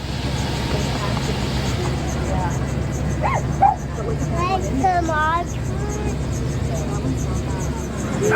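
Several of about 81 rescue dogs and puppies yip and whine in short bursts aboard a bus over a constant engine rumble, with people talking nearby.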